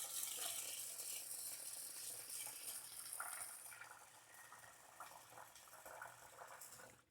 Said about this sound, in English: Such a fancy kitchen, but I don't know how to use water faucets.